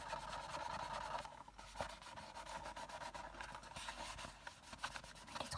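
Fingers press and rub glued paper onto a gift box, a close continuous papery rubbing and scraping with small taps, and no one speaks.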